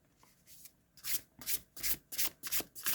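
Matte tarot cards, smooth but slightly slippy, shuffled by hand in a quiet room: after a near-silent start, six or seven brisk papery rasping bursts come in a steady rhythm, close and fairly loud, with no voices.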